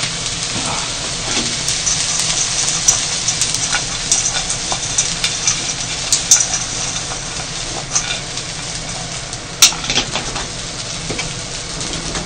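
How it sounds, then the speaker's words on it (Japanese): Fried rice stir-fried in a frying pan sizzles loudly and steadily, with repeated scraping and clacking of a spatula against the pan at an uneven rhythm and no speech. "今回はもう1袋フライパンで炒めるので"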